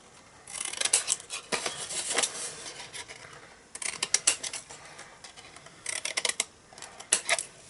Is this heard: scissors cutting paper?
yes